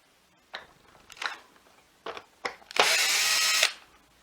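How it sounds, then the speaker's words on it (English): A power screwdriver backs screws out of a Shark HZ400UKT power nozzle, close up: a few short whirring blips, then one sustained buzzing spin lasting about a second. "as I take the screws out"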